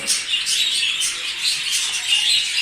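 A Show Jumbo budgerigar chick weighing about 75 grams calls with rapid, high chirps. They come in continuous bursts, close and fairly loud, with no speech.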